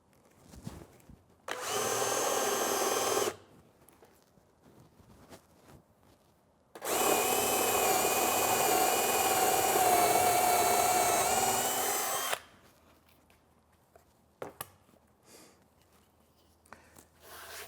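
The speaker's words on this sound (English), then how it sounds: "Second hole, same as the first." Power drill boring a hole into a wooden Windsor chair seat, two loud sustained whining bursts, a short one then a longer one, separated by quiet pauses with faint workshop handling noises.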